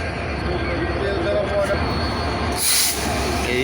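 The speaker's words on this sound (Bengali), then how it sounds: "ইঞ্জিনটা চলে আসছে আর কি এখানে এই এটা জোড়া লাগানো হবে এই বগিগুলোর সাথে" A locomotive rumbles steadily close by as it arrives at Ishwardi railway junction to couple with coaches, a brief high hiss rising near the end, with people talking in the background.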